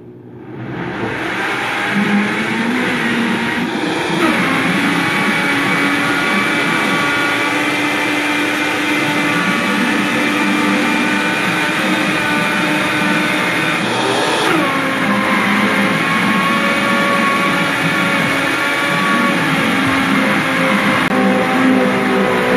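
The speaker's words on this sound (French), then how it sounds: "Je vais mélanger et une fois mélangé, je vais ajouter du lait végétal." Chocolate tart filling being blended with homemade hemp milk, a loud, steady motor whir running continuously for over twenty seconds with slight shifts in pitch and no speech.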